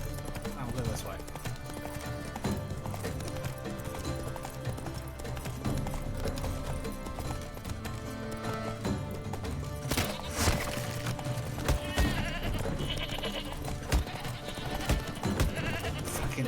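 Hooves clip-clopping at a steady rhythm as a horse is ridden in The Witcher 3: Blood and Wine, with goats bleating nearby, game music and someone talking over it.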